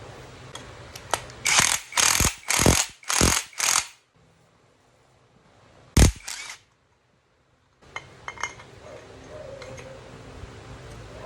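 A nut is threaded onto a motorcycle magneto by hand with a tool: a quick run of five loud ratcheting, scraping bursts, a lone sharp burst a couple of seconds later, then faint close mechanical handling.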